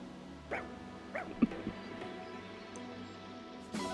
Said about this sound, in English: Elosian dog.